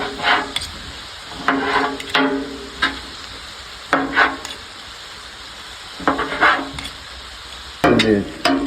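Steak is cut into pieces with a spatula and fried on a hibachi griddle. A steady sizzle runs throughout, broken by repeated close scraping and chopping strikes at irregular intervals.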